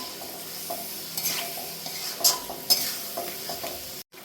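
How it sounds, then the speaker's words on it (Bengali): Potato pieces fry and get stirred in a spice masala for a hilsa fish curry. A spoon scrapes and clinks against the pan in irregular strokes over a soft, continuous sizzle, up close with no talking. "এই আলুটা আমি ভালোভাবে কষাবো এই মশলাটাতে"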